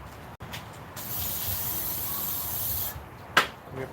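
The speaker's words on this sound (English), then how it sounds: "Let's give a little spray here." Non-stick cooking spray hisses from a can onto a grill in a steady burst of about two seconds, preceded by a short spritz and followed by a sharp click.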